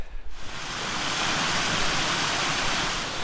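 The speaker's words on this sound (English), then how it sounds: "we're at a waterfall here" Steady, dense rushing roar of a waterfall in the Dolly Sods Wilderness, loud and continuous after a brief quieter start, with no voices.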